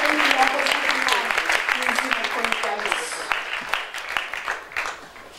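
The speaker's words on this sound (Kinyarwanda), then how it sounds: "Reka tugukomere amashyi kuko uri hejuru" A church anniversary congregation claps together, a dense, sustained wash of applause that thins into scattered individual claps toward the end, with crowd voices mixed in.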